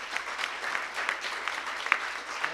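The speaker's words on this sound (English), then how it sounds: "One more round of applause for everyone." At a City Club of Eugene forum for Democratic congressional candidates, the audience gives a steady round of applause, an even, dense clatter of many hands clapping with no talk over it.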